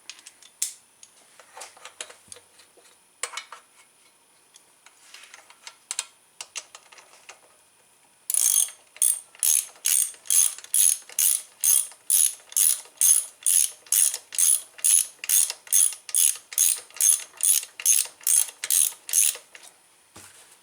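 A half-inch ratchet wrench tightens bolts on a Craftsman 2500 chainsaw, with about twenty quick, regular, close-up clicking strokes after several seconds of light handling sounds.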